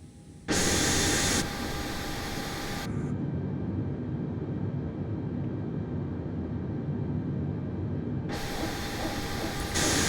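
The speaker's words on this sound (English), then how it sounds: "Good, now start engine 2." A jetliner's second engine starts up in a flight simulator game: a loud, steady rushing hiss with faint whining tones holds for several seconds, then dips and swells again, with no voices.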